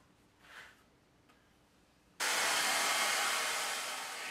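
A loud blow dryer, used to dry a water-based finish on a bass guitar body, switches on abruptly and roars steadily, preceded by a few seconds of quiet room noise with a faint brief sound.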